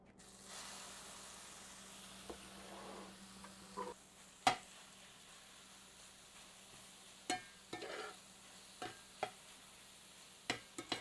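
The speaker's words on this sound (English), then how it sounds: "this skillet is nice and hot, so I'm just going to go ahead and put the vegetables right in" Dehydrated vegetables sizzle softly in a hot skillet, a faint steady hiss broken by scattered clicks and scrapes of stirring, with no voices.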